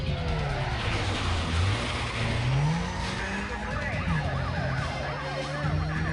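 Police pursuit in the racing game Need for Speed: Most Wanted: wailing sirens sweep up and down over a roaring car engine and tire noise, loud and continuous throughout.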